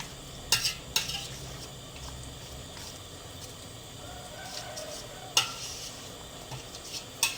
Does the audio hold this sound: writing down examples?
no